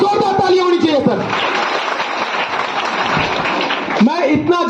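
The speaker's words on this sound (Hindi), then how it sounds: "तो एक बार जोरदार तालियां होनी चाहिए सर।" An audience at a live business presentation breaks into loud, dense applause that fills most of the moment, with a speaker's voice over the start and end.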